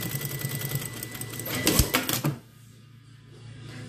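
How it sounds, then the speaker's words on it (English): Sewing machine stitching a half-inch seam on a dress bodice, a rapid mechanical whirring chatter with a burst of louder clacks before it stops, leaving quiet room tone. "then you're gonna sew your half inch seam allowance all the way down to the bottom"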